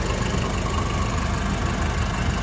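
The engine of a Nissan Urvan van with an overheating problem runs steadily, a loud, dense mechanical drone close to the microphone with no clear rise or fall in pitch.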